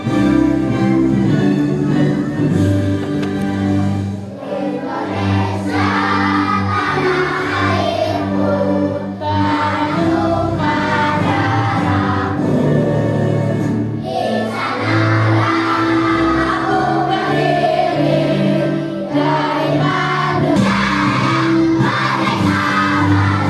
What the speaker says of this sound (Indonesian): ada baiknya kita menyanyikan lagu Indonesia Raya untuk meningkatkan jiwa nasionalisme kita